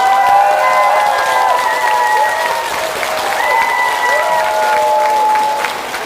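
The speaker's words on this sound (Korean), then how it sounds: "그래서 뜬금없이 우리 스님께 박수 한번" Audience applause for a monk at the close of a Korean Buddhist lecture, steady dense clapping throughout with a few whistle-like tones riding over it.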